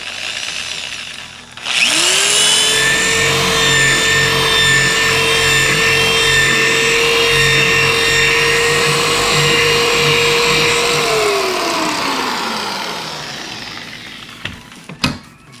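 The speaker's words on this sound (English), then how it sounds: "So I'm going to drill a little bit more." A power drill bores into a screw head on a Honda Goldwing GL1500 side cover, whining steadily and loudly for about ten seconds before winding down, with a few clicks at the end.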